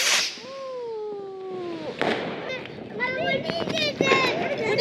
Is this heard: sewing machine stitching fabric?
no